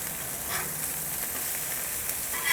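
A smash burger patty with a browned crust sizzling on a flat griddle just after being flipped, a steady broadband hiss and fizz at moderate level with faint crackles throughout, no talking.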